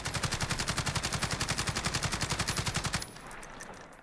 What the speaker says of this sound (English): So first I'm going to fire it standing, and I'm not going to control my recoil.